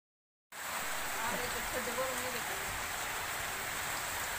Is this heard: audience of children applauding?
no